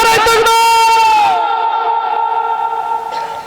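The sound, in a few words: crowd chanting Allahu Akbar in response to takbir call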